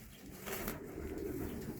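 Racing pigeons in a loft coo softly in a steady low murmur, with faint rustling throughout.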